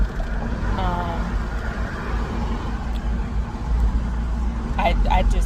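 Steady low rumble of a car being driven, heard from inside the cabin, continuous road and engine noise under a person talking.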